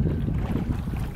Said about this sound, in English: it makes a little bit of water noise with the boat,